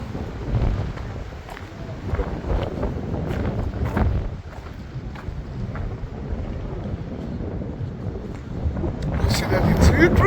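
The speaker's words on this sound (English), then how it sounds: "Although it's windy" Wind buffets the microphone in low, rumbling gusts that rise and fall continuously at a Crusader gate by the tomb of the prophet Samuel, with faint voices mixed into the blustery noise.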